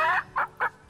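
A chicken in the fantasy role-playing game Divinity: Original Sin clucks three times up close, one longer call followed by two short, evenly spaced clucks.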